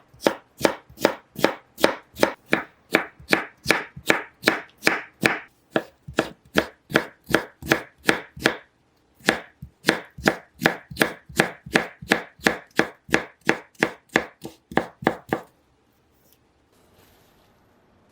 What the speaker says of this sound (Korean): 가늘게 채 썰어주세요.